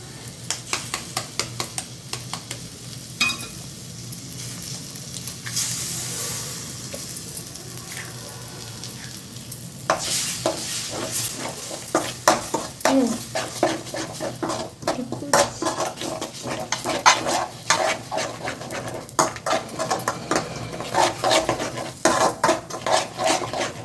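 Egg bhurji being mashed and stirred in a pan, with repeated scraping clinks of a utensil against metal over a soft sizzle, irregular and close, with no talk.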